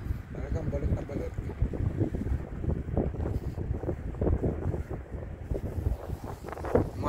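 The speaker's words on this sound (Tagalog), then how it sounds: "Lakas na hangin." Strong cold wind buffeting a microphone outdoors during a snowy Canadian winter walk, a continuous low rumbling roar with gusty swells, while a person talks over it.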